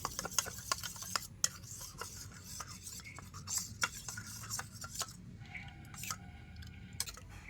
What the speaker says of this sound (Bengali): আর এবার আমি ময়দা আর কর্নফ্লাওয়ারটা ভালো করে মিশিয়ে নেব, জলের সাথে এইভাবে গুলে নিতে হবে।